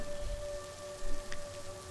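Light rain falls steadily in a soft, even hiss, with an occasional faint patter and a low rumble underneath. No voices are heard, and the sound comes across as an audio drama effect.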